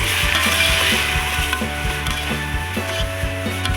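Garlic ginger paste and two large tomatoes frying in a pot for chicken pulao, a loud continuous sizzle with rhythmic knocks from a spoon stirring against the pot, close and without talking.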